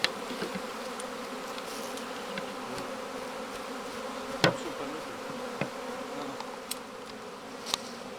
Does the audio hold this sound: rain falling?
no